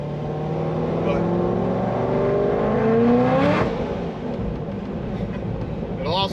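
A 950 horsepower supercharged LS3 Corvette accelerates hard, its engine note climbing loud and steady through rising revs, then dropping into a gear change before pulling again, with a voice talking over the top.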